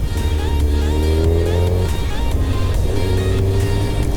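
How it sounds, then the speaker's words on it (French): A car engine drives through narrow village lanes lined with tall house facades near Lake Como, its steady loud hum echoing continuously off the walls with shifting tones as it moves. "le son du moteur qui résonne sur les façades"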